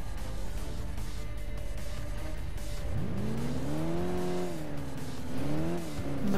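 Police patrol car driving in the video game Alarm für Cobra 11, engine steady then revving up through rising and falling pitch sweeps in the second half, loud and continuous with no talk.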